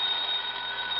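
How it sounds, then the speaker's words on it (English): An old-fashioned telephone bell rings steadily and loudly in a classic radio detective drama, a continuous bright metallic ringing with no voices over it. "pick that other phone off the hook, Dollar."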